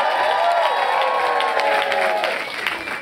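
A large crowd at a vogue ball cheers and applauds loudly and continuously, with whoops and shouts mixed into a dense wash of clapping.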